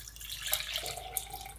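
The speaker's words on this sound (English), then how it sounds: "So I'm going to pour my milk" Milk is poured into a cup while making a moka pot latte, a soft trickling liquid stream that is faint and close, with a short rise in pitch as the cup fills.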